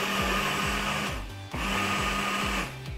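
A kitchen blender purees pumpkin soup, its motor whirring loud and close in two long pulses with a brief dip between them, and no talking.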